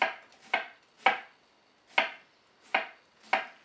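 A knife slicing a cucumber quickly on a board: six crisp, close cuts spaced roughly half a second apart, each a short sharp tap, with quiet between them and no talk.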